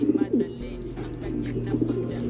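Pigeons in a loft coo softly nearby, with two short bursts of cooing at the start and near the end over quiet background hum.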